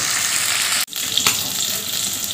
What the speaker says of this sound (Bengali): ইলিশ মাছ বেশি ভাজলে ভালো লাগে না, একটু হালকা করেই এপিট ওপিট করে ভেজে নেব